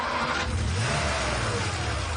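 A car engine revs and pulls away close by, a steady low rumble rising briefly in pitch, with no voices over it.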